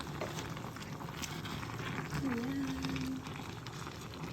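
A Filipino vegetable dish simmering in a cooking pot at home, with a soft steady bubbling and hiss. A short spoken word comes near the end.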